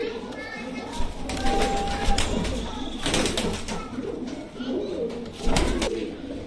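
Kalsira Rampuri pigeons coo at a bird market, soft repeated throaty calls from several birds close by, with someone talking and wings flapping now and then.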